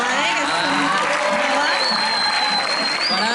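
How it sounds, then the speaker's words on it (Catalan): An audience at a school olympiad opening festival breaks into steady, dense applause with cheers and whoops rising over the clapping, a loud crowd sound throughout. "així que necessitem ni que sigui una mica que les animeu amb aplaudiments"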